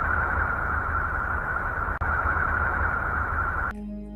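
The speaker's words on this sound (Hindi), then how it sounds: "यूरेनस की आवाज सुनने में हमें गूंजती हुई सुनाई देती है।" Sonified Voyager data from planet Uranus plays as a dense, steady hissing and echoing drone, fairly faint, with a brief dropout midway and a shift to a thinner tonal hum at the very end.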